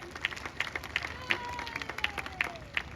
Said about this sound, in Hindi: आयोजक को भी एक बार ताली बजा दीजिए